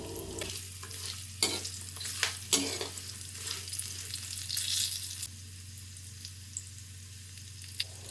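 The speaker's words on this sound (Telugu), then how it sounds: "జీలకర్ర వేసుకొని వేయించుకుందాం." Cumin seeds frying in hot oil for pulihora make a close, soft, continuous sizzle with scattered crackles and a few stirring clicks over a steady low hum, without any voices.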